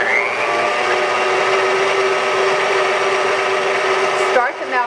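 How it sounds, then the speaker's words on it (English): Stand mixer fitted with a whisk attachment beating egg whites for pavlovas, a loud, steady motor whir holding unchanged for several seconds before a brief wobble near the end. "I have my mixer fitted with a whisk attachment, and I'm just going to start these"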